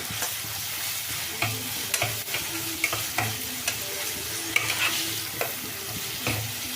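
Eggplant cooking in a pan for a stir-fried side dish sizzles steadily up close, with regular clinks and scrapes of a spatula stirring throughout.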